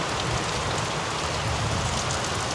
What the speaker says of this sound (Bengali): বৃষ্টির পরিমাণ খুব ভালো পরিমাণ বৃষ্টি হচ্ছে